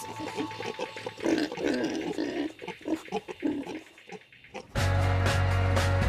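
Pig grunts and oinks, several in short irregular bursts at close range, with shuffling and movement between them, before a steady louder hum takes over near the end.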